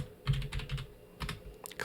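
Computer keyboard keys tapped in short bursts while setting shortcuts in Adobe Premiere editing software, a quick cluster of clicks, a pause, then a few more near, crisp keystrokes with no talk.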